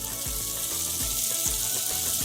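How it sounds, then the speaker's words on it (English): Steady loud sizzling of shredded paratha frying in melted ghee, with a few soft low thumps beneath the hiss. "You can hear it sizzle."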